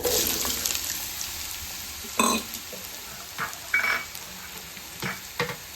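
Ridge gourd and garlic frying in a pan for chutney, giving a steady close sizzle broken by a few sharp clinks and scrapes of stirring.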